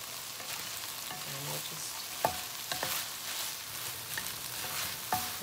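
Shrimp fried rice stirred and frying in a pan, a steady close sizzle broken by occasional sharp clinks and scrapes of the utensil against the pan.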